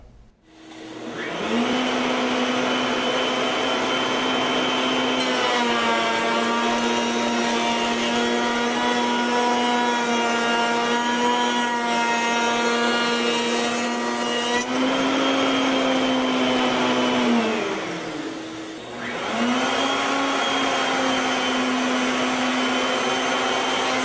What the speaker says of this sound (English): slide a guard in position in front of the router bit.